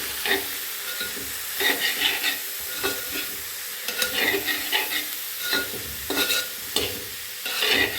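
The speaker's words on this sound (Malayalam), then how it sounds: "ഉപ്പ് ഇട്ട് കൊടുക്കുക അങ്ങനെ ഇത് നല്ലപോലെ തന്നെ മിക്സ് ചെയ്ത്" A spoon stirs salted curry in a sizzling pan, giving rhythmic scraping strokes over a steady frying hiss, close and fairly loud, with no voices.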